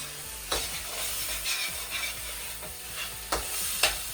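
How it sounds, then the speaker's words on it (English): Spices fry in a pot with cinnamon while being stirred, a dense close sizzle with rhythmic spoon scrapes and a few sharper knocks against the pot, no talking. "add some cinnamon, about a teaspoon of cinnamon. And I shall stir it."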